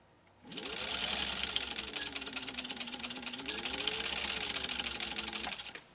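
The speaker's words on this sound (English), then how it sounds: "our final stitch off on this leather using the attachment" A Singer 15-91 sewing machine stitching through leather with an attachment, running as a loud, fast, steady mechanical clatter close by for about five seconds, with the motor pitch rising and then falling before it stops.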